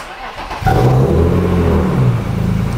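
A BMW E36 engine cranks and catches, then revs up into a loud, close, throaty roar and settles into a rough idle, with a voice faintly heard before it fires.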